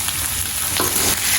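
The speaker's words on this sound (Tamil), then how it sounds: "இது உள்ளியும் உருளைக்கிழங்கும் அதாவது பார்த்தீங்கன்னு சொன்னால் வெங்காயம் இதுவும் சேர்ந்து பொரியட்டுக்கும்" Onion and potato fry together in a pan with a steady, close, dense sizzle and crackle, broken by brief stirring scrapes; nobody speaks.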